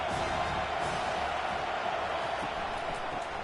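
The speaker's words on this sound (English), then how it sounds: "Defense getting a boost from this crowd on 3rd and long." A stadium crowd in a college football video game, Stanford against Miami, roars in a steady, dense wash of cheering that holds without a break, loud and continuous.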